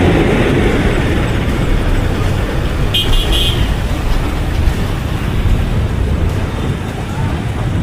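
Dense road traffic on IBP Road in Montalban, Rizal, a loud constant roar of passing cars and buses with a brief horn toot in the middle, heard up close from the street.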